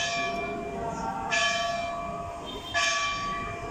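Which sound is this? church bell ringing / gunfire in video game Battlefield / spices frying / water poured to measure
church bell ringing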